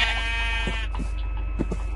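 Video game sheep gives one drawn-out, buzzy bleat at the start, followed by a few soft thuds and clicks from play, with no talking.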